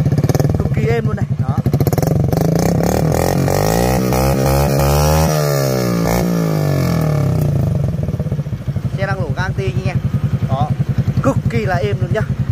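A Honda 50cc motorcycle engine runs loud and close, revving up and settling into a steady, even idle with a rapid putter. Voices talk over it near the end.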